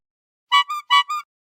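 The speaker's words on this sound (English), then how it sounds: "Sound is antique car horn." Antique car horn honking four times in two paired toots, bright and buzzy with a strong harmonic stack, loud and close with no talk.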